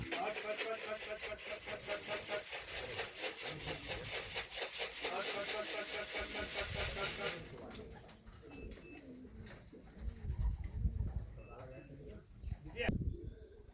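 Racing pigeons at a home loft during a race flown from Nauen coo in a steady, repeated rhythm close by, followed by quieter rustling and a few soft thumps.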